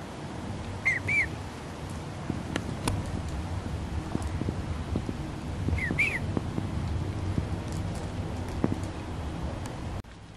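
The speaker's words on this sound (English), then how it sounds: "Can you hear that bird?" A bird calls outdoors at sunset, two short chirping phrases about five seconds apart, faint against steady low background noise and breeze.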